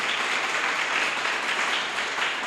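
A church congregation applauding steadily throughout, a dense and even wash of many hands clapping at once, with no voices standing out above it.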